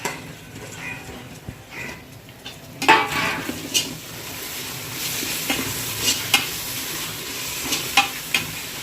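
Ginger and garlic sautéing in a pot for biryani as mint and coriander go in, with a continuous sizzle and repeated clinking ladle strokes against the pan, near and clear, no talking.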